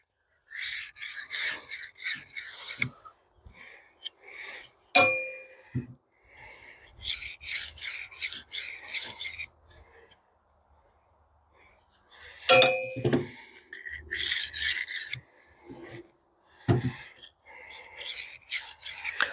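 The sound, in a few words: knife being sharpened on a stone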